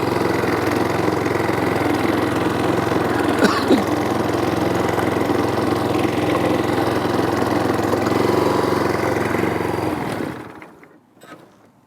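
A lawn scarifier runs over a mossy lawn with a steady, loud motor drone and raking noise. It continues for about ten seconds and then cuts off, with no talking.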